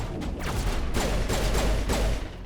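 Video game explosions go off in a dense burst of several muffled booms and crackles, loud and close, with a continuous low rumble underneath.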